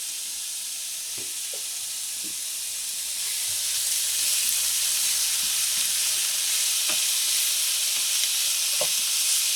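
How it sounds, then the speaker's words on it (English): Bacon strips sizzle in a hot pan with a steady, loud frying hiss that swells after a few seconds, broken by sharp scattered pops and crackles; no one speaks. "So we're going to cook our bacon in here, get it all sizzly."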